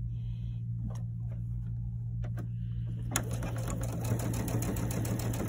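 A sewing machine stitching quilt blocks together, a steady rapid whirring stitch rhythm starting partway through after a few soft clicks, close and fairly quiet.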